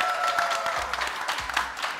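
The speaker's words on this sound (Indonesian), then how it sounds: "kalian bisa nonton bareng, tepuk tangan lagi dong." A studio audience on a comedy talk show claps in a brief, lively burst of applause, close and steady for about two seconds.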